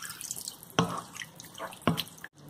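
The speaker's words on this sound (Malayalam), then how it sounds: "ഒരു അര ഗ്ലാസ് വെള്ളം ഒഴിച്ചു കൊടുക്കാം" Water poured into a pot of Kerala-style chicken curry lands as two distinct splashy plops about a second apart, close and fairly quiet, with no talking.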